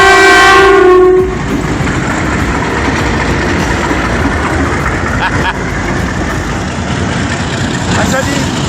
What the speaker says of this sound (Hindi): शंटिंग इंजन जा रहा है, पाकिस्तान एक्सप्रेस को शंट कर रहे हैं